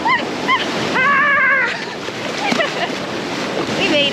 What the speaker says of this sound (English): there's like some monster waves coming in